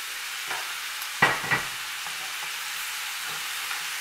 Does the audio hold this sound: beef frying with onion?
yes